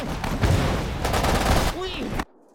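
Gunfire rattles in the Sudden Strike 4 war game, a burst of loud, dense shots and machine-gun fire with a short pause between volleys, mixed with brief voice lines before cutting off abruptly.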